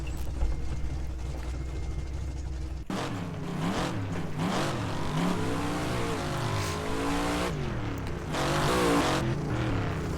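A race car engine in the rFactor 2 racing game revs up and down repeatedly in sweeping rises and falls after a brief quieter stretch, loud and close with no talk over it.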